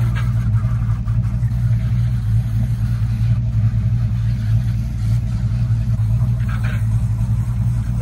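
A 1968 Imperial Crown Coupe with its 440 engine drives by, giving a loud, steady low rumble and exhaust drone that holds on without a break.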